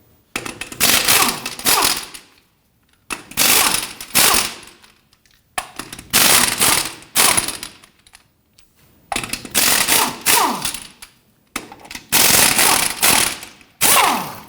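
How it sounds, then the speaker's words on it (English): A ratchet or impact tool loosens lug nuts on a Jeep Patriot wheel in loud rapid rattling bursts of about two seconds, each followed by a short pause, close to the work. "Let's go ahead and loosen and remove our lug nuts."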